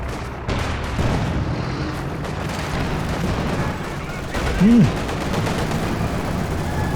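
Tank gunfire in a Company of Heroes 2 battle, with booming shots and rumbling combat under a busy mix of game noise and speech.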